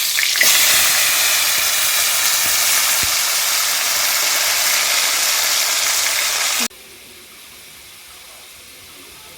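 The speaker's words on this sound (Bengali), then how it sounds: "আলুগুলো ভেজে নিচ্ছি।" Potatoes frying in a pan, a broad steady hiss close by for about six and a half seconds, then cutting off abruptly to a quiet room.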